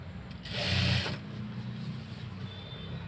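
A sewing machine stitching a fall onto a sari, a short close burst of mechanical whirring and clatter that stops after about a second, followed by quieter room hum.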